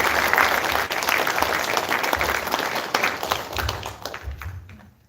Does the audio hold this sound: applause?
yes